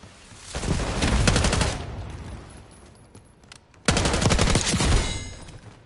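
Automatic gunfire rattles in a first-person shooter game, with two long, loud rapid bursts separated by a short, quieter pause.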